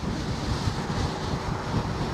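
Strong wind buffets the microphone of a rider on a KingSong 18L electric unicycle, a loud, rumbling, gusting roar that fills the short stretch without pause.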